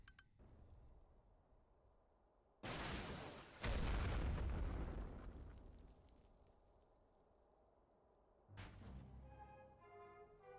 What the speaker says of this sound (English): That explosion was both amazing and terrifying at the same time.